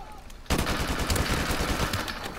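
Rapid gunfire from a close-quarters firefight in Modern Warfare Remastered, Search and Destroy mode, erupts after a quiet half second and continues as dense, loud, overlapping shots to the end.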